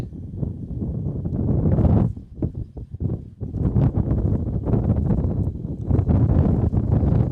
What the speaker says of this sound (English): Wind heavily gusting now.